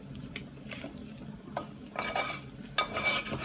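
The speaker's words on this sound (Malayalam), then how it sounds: "ബീഫ് ഫ്രൈ ആയിക്കൊണ്ടിരിക്കുകയാണ്" Beef fries in coconut oil for a Kerala beef fry, a soft sizzle under a spoon stirring and scraping the pan, with louder scraping bursts toward the end; no talking.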